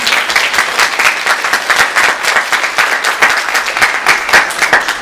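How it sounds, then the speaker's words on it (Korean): A room full of people at a Sunday church service claps together in a loud, rhythmic, sustained burst of applause. "우리 다 같이 박수로 환영하겠습니다"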